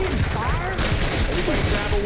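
Gunshots in Left 4 Dead 2, a quick burst of several loud shots over a dense, noisy game soundscape, with voices talking underneath.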